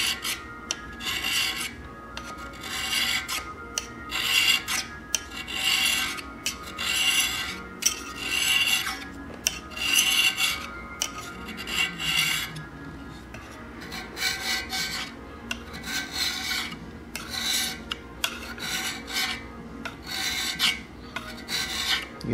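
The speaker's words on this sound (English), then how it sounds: "See how this super wide scraper takes very wide flat cut and keeps me out of trouble." A super-wide hand scraper scrapes across a cast-iron surface plate lap in steady repeated strokes, each a close, raspy rub cutting at ninety degrees to earlier grooves, with short pauses between passes and no talk.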